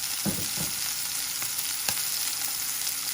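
Fish sizzles and fries steadily in a pan for tacos, with a few soft stirring knocks and scrapes near the start and a sharp tap partway through, close and continuous throughout.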